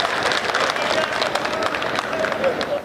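An audience at a Hindi poetry gathering claps together in a dense, steady burst of applause, fairly close, with a voice faintly audible beneath it.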